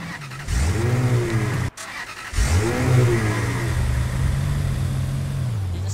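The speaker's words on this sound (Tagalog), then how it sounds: "Narinig ang kotse dito sa east eh." Car engine revving and accelerating in the battle royale game Rules of Survival, a steady mid-pitched drone that climbs in pitch, briefly cuts out near two seconds, then returns and holds loud and close to the end.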